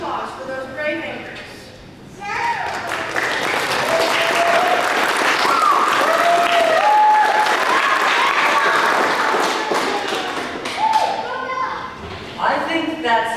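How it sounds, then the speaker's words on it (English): An audience at an all-school play night breaks into sustained applause and clapping, swelling to a loud, dense roar for several seconds before tapering off, with children's voices and some cheering mixed in. "a right round of applause for those brave anchors"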